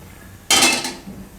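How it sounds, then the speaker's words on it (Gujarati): A kadai set down on a home stovetop while cooking corn for methi makkai malai gives one sharp metallic clank with a short ringing clatter, loud and close, fading over about half a second into quiet. "અહીંયા આપણે કઢાઈ મૂકી દેવું"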